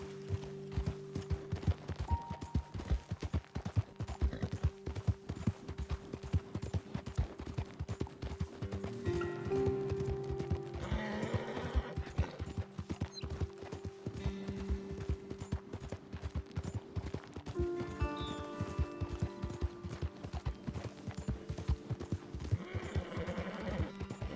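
Horse hooves clip-clop steadily in a quick, rhythmic gait while riding in Red Dead Redemption 2, with tack creaking and a faint background music drone throughout.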